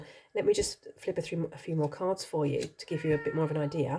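A pet cat meows insistently, hungry for food, its cries rising and falling in close succession while a person talks over it.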